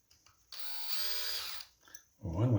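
Power screwdriver whirring as it drives screws into an IEC connector for a high-power amplifier extension cord, one steady buzzing run of about a second, followed by a short low thump.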